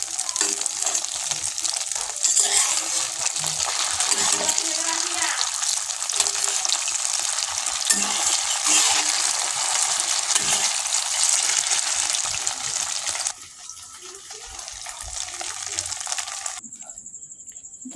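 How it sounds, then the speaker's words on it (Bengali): Paneer pieces frying one by one in hot oil, a steady broadband sizzle that runs continuously for most of the clip, then drops quieter near the end as the frying settles. "এবার একটা একটা করে সব পনিরগুলো ভেজে নেব।"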